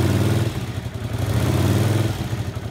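A Honda CX500 motorcycle engine idles steadily and smoothly nearby, with a low, even rumble and a light mechanical clatter running through the whole stretch.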